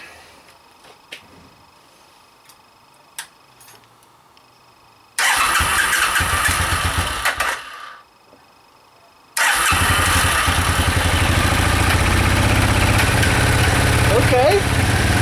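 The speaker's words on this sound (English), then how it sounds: "let's try to start it up" A Suzuki VX800 motorcycle, its carburettors freshly cleaned, cranks over briefly, stops, then fires and runs loud and steady, close by, after some quiet handling sounds.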